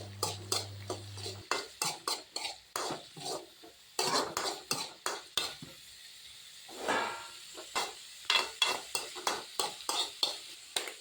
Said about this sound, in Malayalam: നന്നായിട്ട് ഇളക്കി കൊടുത്ത് അതിൻ്റെ ഒരു ബ്രൗൺ കളർ ആവുന്നിടം വരെ നന്നായിട്ട് നമുക്ക് ഒന്ന് ഇളക്കി കൊടുക്കാം.